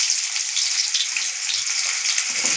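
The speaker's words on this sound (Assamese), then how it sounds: "মাছ ভাজা তেলতে দিছোঁ পিঁয়াজ।" Fish and onion fry in hot oil with a steady, close hiss and crackle that never lets up, and small stirring sounds come through now and then.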